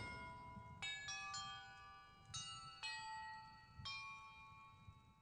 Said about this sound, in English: Contains clues about the order I'm supposed to ring the bells in.